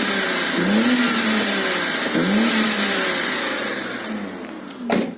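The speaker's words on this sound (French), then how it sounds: "Et pour vous faire écouter un peu le bruit des échappements." Exhaust of a BMW E31 8 Series with the M70 V12, revved repeatedly in loud rising and falling sweeps close by, then settling toward idle before a sharp final blip.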